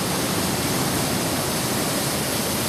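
Water falls steadily inside two Evapco cooling towers of a little over 1,000 tons capacity, a loud, dense, unbroken rushing roar with no talking.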